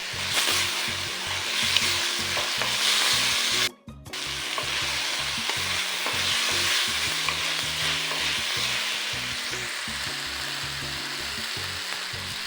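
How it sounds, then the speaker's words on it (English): Tripe stew being stirred in a pot, with continuous sizzling and bubbling under repeated rhythmic scraping strokes of a spoon, close and steady, interrupted by a brief gap near the start. "I open the pot and stir very well."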